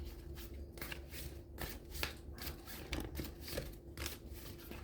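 Tarot cards being shuffled by hand, a rapid run of crisp riffling flutters and soft slaps repeating in quick bursts, close and fairly quiet, with no talking.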